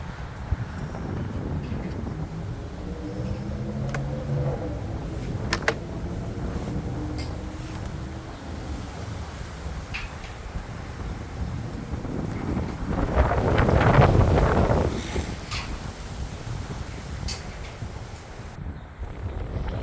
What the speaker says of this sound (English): the wind is ferocious out here